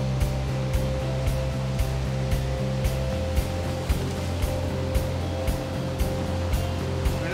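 Ocean surf breaks on a beach in Rosarito, Mexico, a constant rushing roar of white water with a steady low hum and faint regular clicks beneath it.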